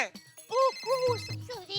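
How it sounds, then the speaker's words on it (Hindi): A mobile phone rings with an incoming call in a household comedy scene, a melodic ringtone of repeated chiming notes heard clearly at close range, with people talking over it. "अरे मेरे फोन में छोटी का फोन आ रहा है बात करने के लिए"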